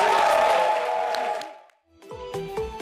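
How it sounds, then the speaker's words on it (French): A theater audience applauding and cheering, a dense wash of clapping that fades out, followed by a short musical sting. "Merci d'applaudir"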